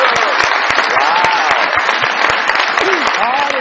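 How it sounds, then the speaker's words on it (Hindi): A television comedy show's studio audience welcomes guest Shamoon Abbasi with loud, close applause, a thick run of sharp claps over a voice talking through it. "बहुत सारी तालियों में वेलकम कीजिएगा जनाब शमून अब्बासी साहब"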